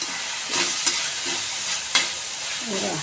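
Malvani masala with onion and dry and fresh coconut being sautéed in oil in a pan, a loud close sizzle with several scraping stirs of a spoon, no voices.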